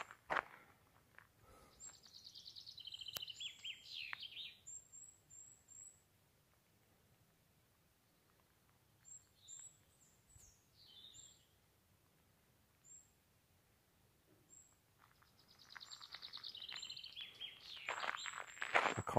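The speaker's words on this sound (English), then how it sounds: "so you can hear the birds around here" High, thin bird chirps and tweets come in scattered clusters, faint and distant, with rustling and a few soft footstep-like sounds between them.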